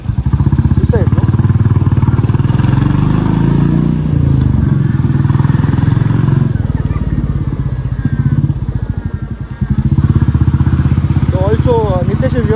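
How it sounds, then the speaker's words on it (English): Motorcycle ride on the road, its engine droning loud and continuously with wind buffeting and occasional rattles close to the rider, while people talk over it. "Me and Nitesh going on the bike"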